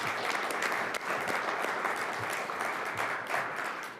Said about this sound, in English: let's give a round of applause to these young men.